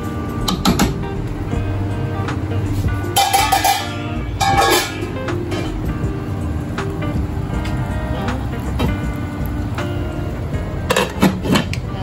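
A lid goes onto a cooking pot of simmering humba, giving a few scattered metallic clanks and clatters over a low kitchen background. People talk intermittently throughout.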